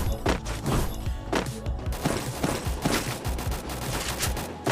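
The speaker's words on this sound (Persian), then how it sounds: "تیراندازی میکنی" Rapid bursts of gunfire in an online shooter video game, sharp repeated shots in quick volleys, loud and close throughout with little else audible.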